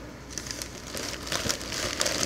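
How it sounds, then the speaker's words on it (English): Close by, hands scrunch sheets of newspaper into balls as cushioning around a parcel of red cherry shrimp, making a busy series of crackling, crinkling rustles that grow slightly louder toward the end. "get some more newspaper, crumple it up and put it around for cushioning"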